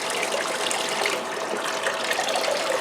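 Water runs steadily from a tap over a gold recovery table, a fast continuous gush with no pauses and no voices.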